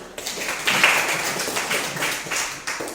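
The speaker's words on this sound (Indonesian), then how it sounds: "Ya, beri tepuk tangan buat Novi." A burst of applause from a school class, dense hand claps rising quickly and holding steady for a few seconds, fairly close and lively.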